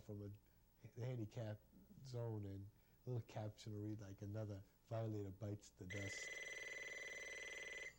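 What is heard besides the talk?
telephone ringing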